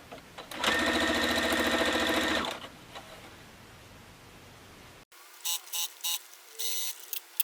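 A sewing machine stitches the last seams of a half-square-triangle quilt block, running loud and steady for about two seconds, then a few short bursts of stitching follow after a quiet gap.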